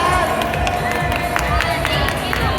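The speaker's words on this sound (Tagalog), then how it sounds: "Palakpak naman guys!" A loud festival crowd at a panel during Otaku Musika Festival claps and cheers together, with steady clapping mixed into lively crowd babble throughout.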